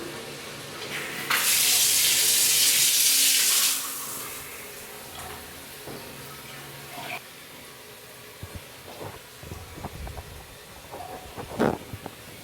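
Water runs from a shower fixture in a bathroom on Paros, Greece, a loud steady rush for a couple of seconds, then stops, leaving scattered faint knocks and clatters.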